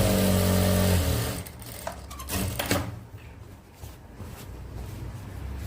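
A sewing machine stitches a men's shirt, its motor whirring in a steady, loud hum for about a second before stopping. Intermittent mechanical clicks and handling clatter follow.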